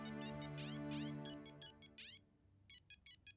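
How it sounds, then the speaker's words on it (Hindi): A mobile phone rings with a melodic tone of rising chirps and repeated bursts, fairly faint, part of a Hindi-dubbed South Indian love story film scene. "मेरा ही फोन बज रहा है"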